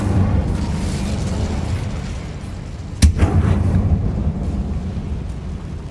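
The Incendio fire spell is cast in Hogwarts Legacy, a sudden loud burst midway through a constant rumbling game soundscape, followed by a crackling roar.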